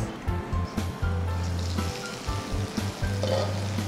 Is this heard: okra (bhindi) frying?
yes